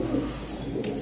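A large male pigeon coos in a low, rounded, throaty murmur, heard close by over a steady background hum.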